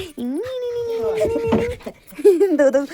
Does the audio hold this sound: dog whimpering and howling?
yes